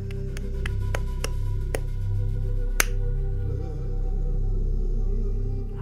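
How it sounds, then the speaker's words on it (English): Sparse, sharp claps ring out in an uneven series over the first few seconds, then stop, leaving a low steady hum. "Everybody start clapping."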